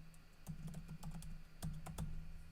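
A short password is tapped out on a computer keyboard, about a dozen soft, quick clicks in two small bursts, faint and close in a quiet room.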